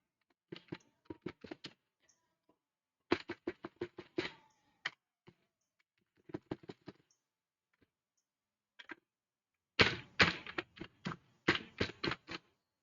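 Keys clatter on a computer keyboard as an email address is entered at a login page, with bursts of quick, crisp clicks separated by short pauses and a dense final flurry, close and alone.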